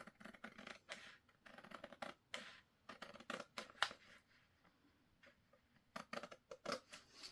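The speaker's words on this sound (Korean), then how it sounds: "밑에 선을 윗선 말고 밑에 선을 싹 잘라주세요." Scissors snip through a paper sewing pattern for a blouse, giving quiet, close crisp cuts in irregular bursts with short pauses between them.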